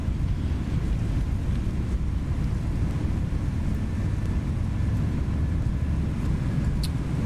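A ToLiss A321 jet's engines spool in reverse thrust on the runway in a flight simulator, a steady deep rumbling roar that holds loud and even throughout.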